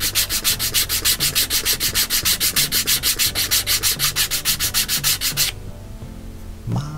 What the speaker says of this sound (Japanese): 目で見ながら削っていくしかないですよね